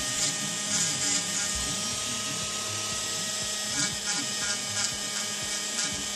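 A small rotary tool with a burr grinds lightly on an epoxy-repaired surface. The high, continuous buzz is steady and fairly quiet, with faint scraping variations throughout.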